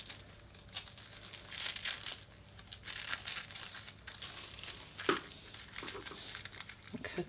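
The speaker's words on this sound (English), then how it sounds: "So I'll just trim off the excess tissue paper there and trim it off at the neckline as well." Excess tissue paper from a sewing pattern is trimmed at the neckline. Close, soft crinkling and rustling of thin paper comes with small snips and a sharper crunch partway through.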